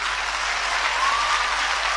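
Congregation applauding newly commissioned presbyters at a church induction service: a dense, even wash of many hands clapping, sustained and fairly loud with no voices on top.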